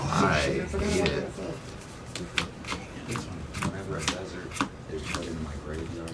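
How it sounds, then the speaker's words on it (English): A deck of cards is shuffled during a Magic: The Gathering Commander game. Brisk riffles and sharp card snaps follow one another in a busy, close rhythm for several seconds. "Let's see how well you shuffle."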